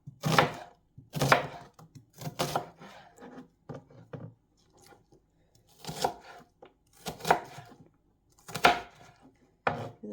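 A knife chops through an onion on a cutting board while making chicken noodle soup, giving a run of sharp, close chopping bursts in irregular clusters with short pauses between.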